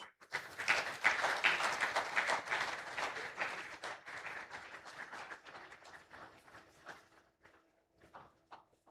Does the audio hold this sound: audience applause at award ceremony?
yes